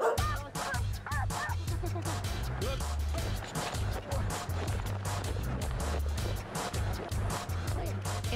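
A police dog barks repeatedly and excitedly during a suspect takedown demonstration, loud and close, mixed with shouting voices and a steady background rumble.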